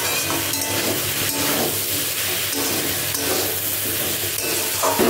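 Ground spices frying in a pan with a little salt and turmeric added, for a chalta (elephant apple) pickle: a steady, close sizzle and hiss with faint stirring scrapes, continuous throughout with no talking.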